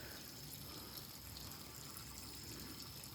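Spring water pours steadily into a wishing well at the Tokohu Inari shrine in Nagaoka, a faint, continuous gushing and splashing with no voices.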